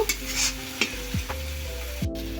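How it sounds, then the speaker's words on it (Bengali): Spice paste (masala) sizzles and fries in a pan for a chicken dish, with a spoon scraping and stirring several times over a steady, close frying hiss. "একটু মশলাটা ফ্রাই হবে ততক্ষণ অপেক্ষা করব"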